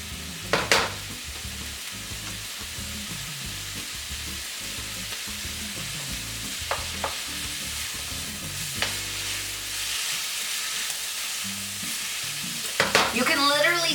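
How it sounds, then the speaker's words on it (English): Garlic and Brussels sprouts pan-fry with a steady, fairly loud sizzle lasting throughout, broken by occasional clinks of a utensil stirring the pan. "Oh, I love the smell of garlic cooking."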